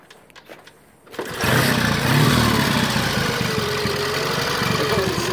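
A 1952 Triumph TRW 500cc motorcycle fires up after a second of quiet and settles into a steady, loud idle with a clattering exhaust.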